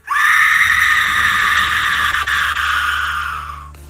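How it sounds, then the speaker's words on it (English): A long, loud, piercing scream rings out in a dark hallway of a horror story, holding steady for several seconds before tapering off, with nothing else heard. "she hears a loud scream"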